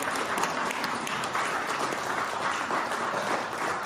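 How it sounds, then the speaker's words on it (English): Crowd at a local historical society meeting giving a round of applause, dense continuous clapping at a strong, even level from start to finish. "Can we give Stan a round of applause?"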